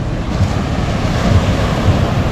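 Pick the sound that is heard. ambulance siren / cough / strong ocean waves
strong ocean waves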